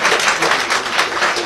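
Dense audience applause at a Las Vegas vow renewal ceremony, loud and close, steady clapping with no talk over it.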